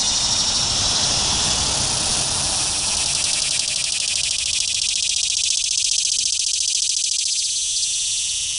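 Annual cicadas in Delaware trees buzz in a loud, continuous, high-pitched drone that swells and then thins toward the end, with no talk.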